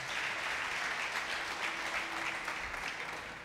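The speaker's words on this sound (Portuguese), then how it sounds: "Você pode aplaudir e ficar de pé?" A church congregation applauds and rises to its feet, a steady, fairly distant wash of clapping that fades slightly at the end.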